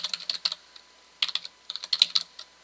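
Quick bursts of typing on a computer keyboard while recipe ingredients are entered, crisp close key clicks arriving in short irregular runs with brief pauses between.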